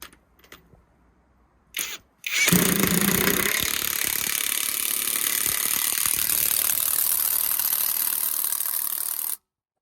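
A cheap Tik-tok Ronalty impact gun tightens a nut: a brief burst, then a loud, sustained hammering rattle for about seven seconds before stopping abruptly, close by with no talking.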